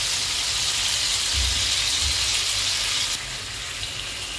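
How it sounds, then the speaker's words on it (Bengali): Ridge gourd with poppy seed paste fries in a covered pan, giving a steady hiss and sizzle that drops slightly in level near the end. "এবার এটাকে আমি ভালো করে নাড়াচাড়া করে ঢাকা চাপা দিয়ে ভাজা করে নিচ্ছি"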